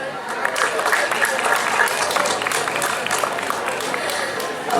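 Audience at a village fair applauding, a steady wash of clapping from a crowd that holds evenly for several seconds with some voices mixed in.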